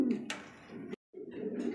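Pigeons coo in short throaty bursts at a pigeon seller's stall, where large show breeds are kept. The calls sound close and fairly soft, with a brief silent gap partway through.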